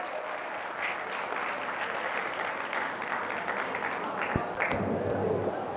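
Steady applause from an audience at an Urdu poetry recital, an evening literary gathering, dense clapping held at an even level throughout with a faint voice or two underneath.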